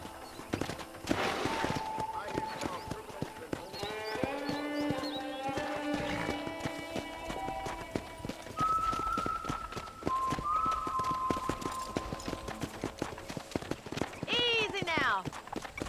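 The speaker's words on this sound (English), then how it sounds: "let's see if you can still ride a horse." Horse hooves clip-clopping and a whinny while riding around a ranch in the video game Red Dead Redemption, with steady hoofbeats under a voice and background music throughout.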